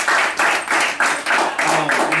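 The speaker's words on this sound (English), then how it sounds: "so everybody give her a round of applause" Audience at a community health day event breaking into applause, a dense loud burst of clapping in pulsing waves with voices mixed in.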